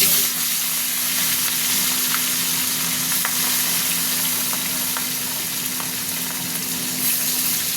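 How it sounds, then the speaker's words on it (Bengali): Fish frying in hot mustard oil in a kadai, a steady close sizzle with faint crackles and a few soft pops, continuous throughout with no talking. "মাছ ভাজবো, তাই সর্ষের তেল দিয়ে দিলাম"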